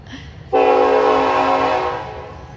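A loud train horn sounds in one long, steady blast from close by, holding for about two seconds before fading slightly at the end.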